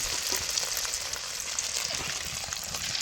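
An egg fries with dried chillies in hot oil, giving a steady, close sizzling hiss that continues without pause for the whole stretch.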